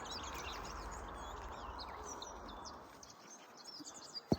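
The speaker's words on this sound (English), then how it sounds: "but the birds were killing me in the night." Many birds chirping and twittering over a steady outdoor hum in Romania, a busy chorus of small calls, moderately loud, ending with a sharp knock.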